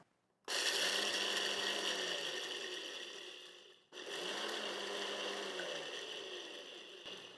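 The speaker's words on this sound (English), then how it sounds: "This is just a smoothie blender thing." A smoothie blender in a camp kitchen runs in two steady bursts, a high whirring roar that stops briefly between them and then cuts off.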